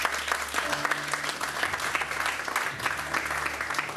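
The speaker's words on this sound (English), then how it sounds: "Please clap for yourselves." Applause from a church congregation during a worship service, steady and dense over a low sustained musical drone, with some voices mixed in.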